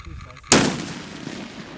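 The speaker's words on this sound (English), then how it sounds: "An explosion? Yes. And a real one." A real explosion set off on a film set for a Gizmo production, a single sudden loud blast that bursts in after a brief quiet stretch and then trails off into a long, rumbling decay.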